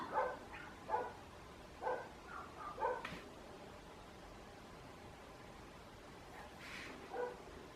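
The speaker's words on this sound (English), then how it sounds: "The dogs are just having a" Dogs bark outdoors in a short run of yips and woofs, muffled and moderately distant, heard indoors over a steady background hiss before fading to quiet.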